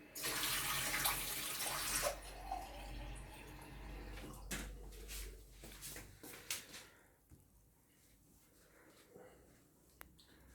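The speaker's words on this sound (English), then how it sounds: "So I'm just going to add a little drop of cold water to my blackcurrant cordial." Cold water poured into blackcurrant cordial in a glass, a rushing splashy pour for about two seconds, then fading trickles, drips and small clinks, quiet and close.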